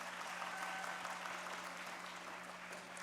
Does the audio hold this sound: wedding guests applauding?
yes